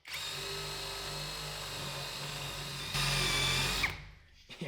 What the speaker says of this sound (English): and just going to drill through.